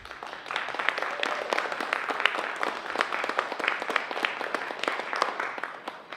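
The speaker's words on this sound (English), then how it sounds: "a special round of applause for Marilyn Bourgeois for all of her work." An audience applauds at the end of an oboe lecture recital, a steady, dense round of clapping with many hands at moderate distance, sustained evenly for several seconds with no talking.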